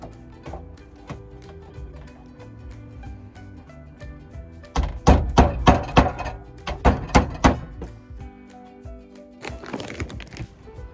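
Hammer blows drive a nail into a wooden shelf, a quick run of about eight sharp, loud knocks in two bursts, with soft background music before and a brief rustle after.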